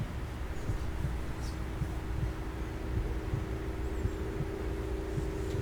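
A heartbeat from the Roblox horror game The Mirror throbs as a steady low pulse under a constant droning hum, with no talking.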